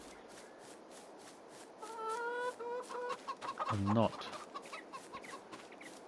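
Farming Simulator 22 chickens clucking at a chicken coop: a few short, close, tonal clucks and squawks rise over low ambience midway, with someone talking briefly.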